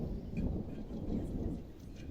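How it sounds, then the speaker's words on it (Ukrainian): Thunder rolls low and steady under a black sky on Kichera mountain near Truskavets, a continuous deep rumble with no voices over it. "Небо чорне, гримить."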